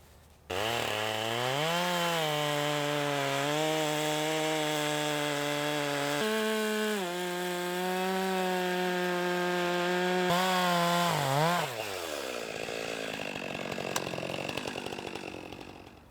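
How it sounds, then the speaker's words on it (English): A chainsaw runs loud and steady for a long stretch while milling a maple log, its pitch dipping as it bites into wood, then winding down toward the end. "let me get the chainsaw back on and get this thing milled up"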